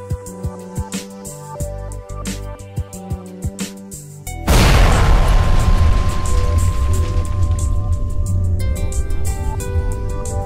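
Perforating guns fire inside a well in an oilfield animation, a sudden loud booming blast after a few seconds of sparse rhythmic clicks and tones, followed by a long sustained rumbling roar.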